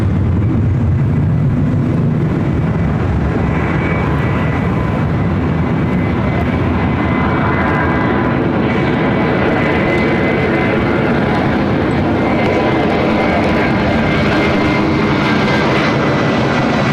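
A Delta airliner's jet engines roar at LAX airport, a loud, steady, broad rumble that holds without letup, with a slight swell in the middle.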